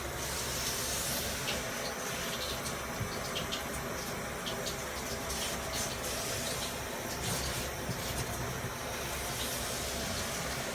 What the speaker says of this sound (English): My spray bottle is not spitting out the water properly